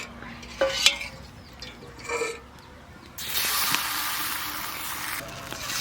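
A spoon stirs milk pitha mixture in a cooking pot in a Bengali village kitchen, with a few soft scraping strokes near the start, then a steady hiss for the rest.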